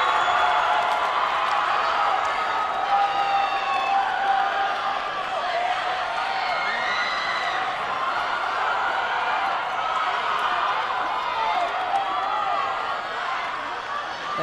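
Dense crowd of cheerleading fans cheering at a high school state cheerleading final, a steady loud roar of voices and shouts filling the arena without a break.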